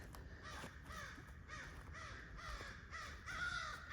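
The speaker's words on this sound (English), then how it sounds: "These crows that are chattering." Several crows caw repeatedly in a loose rhythm, harsh calls overlapping at moderate distance against faint background noise.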